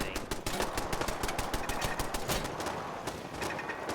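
In Fallout 4, defensive turrets fire rapid, continuous bursts of machine-gun fire, a dense, sustained rattle of shots with no pause.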